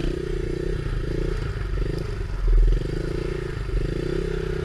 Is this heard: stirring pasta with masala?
no